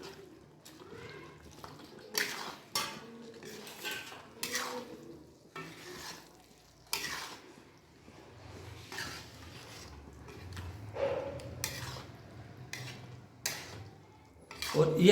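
A spoon stirs boiled peas and cauliflower into a turmeric sabzi in a pan, soft scraping and clinking strokes repeating at close range over a faint sizzle.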